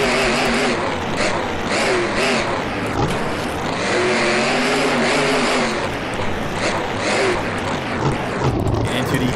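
Monster Jam freestyle trucks King Carnage, Hakai Hime and Crooked Beast roar with a loud, sustained engine under shifting revs, with tire noise and occasional voice in the background throughout.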